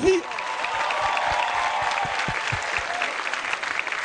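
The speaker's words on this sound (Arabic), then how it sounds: "تصفيق كمان للكبيرة من لبنان والبادية" Studio audience applause at a 2009 Taratata music TV show, a dense, sustained wash of many hands clapping that holds steady for the whole stretch, loud and close.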